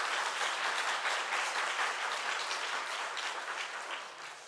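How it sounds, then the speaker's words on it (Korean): A church congregation applauds during a men's mission worship service, with dense, sustained clapping from many hands that eases slightly toward the end. "우리 한 번 더 축복의 박수 했으면 좋겠습니다."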